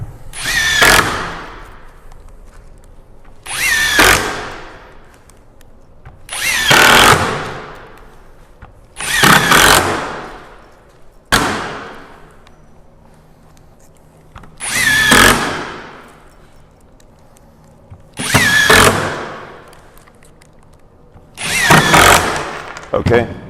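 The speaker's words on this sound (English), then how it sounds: "I can just zip around it and sink the screws into the stiles" A power drill sinks screws into the stiles of a wooden platform in roughly nine separate bursts, each a short rising whir spaced a couple of seconds apart, loud and close, with quiet gaps between.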